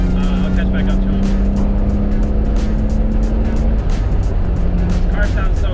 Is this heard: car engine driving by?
yes